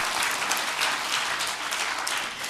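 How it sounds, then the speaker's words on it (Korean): Inside a church during a Sunday sermon, the congregation claps together as an act of praise, a dense and even wash of many hands that stays steady from start to finish. "오늘 이 풍성한 은혜에 감사하며 다 같이 박수로 하나님께 영광을 돌립니다."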